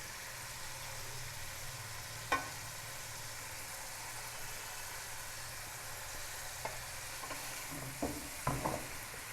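Cabbage and other vegetables being stir-fried with chicken over a high flame, a steady soft sizzle with a few brief clinks and scrapes of a utensil, no talk.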